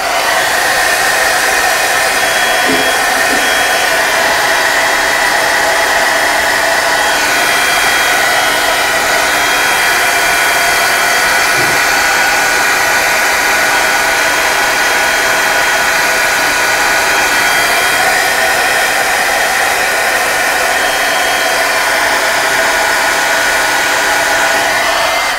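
A hair dryer blows nonstop and loud to dry painted artwork before stenciling, a steady roaring whine with no breaks and no talking.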